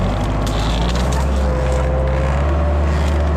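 Tractor engine labouring under heavy load while pulling out thornbush clumps, a loud, steady low rumble with a rising whine, up close and continuous.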